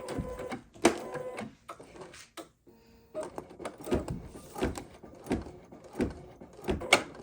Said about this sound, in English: And now I'm going to tack this into position.